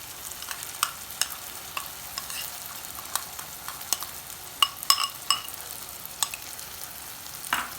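A spoon stirs spiced yogurt mixture into tomatoes in a frying pan for paneer bhurji, giving a soft continuous sizzle broken by sharp, irregular scrapes and clicks against the pan.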